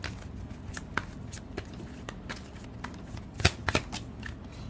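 Tarot cards are shuffled by hand in a steady run of soft papery riffles and flicks, with a sharper cluster of slaps near the end as cards are drawn and laid down, close and fairly quiet, no voices.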